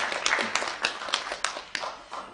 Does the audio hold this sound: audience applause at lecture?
yes